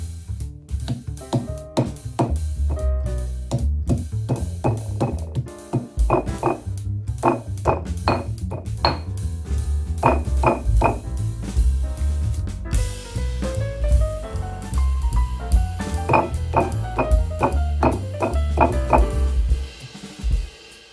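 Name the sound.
pounding cooled boiled beef flat for empal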